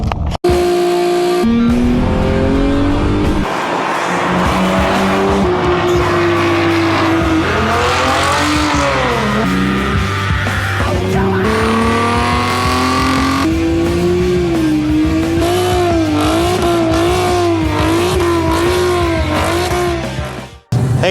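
Race cars run at a night autocross event, engines revving, climbing and falling nearby in a continuous loud stretch, with tire squeal through the fast turns.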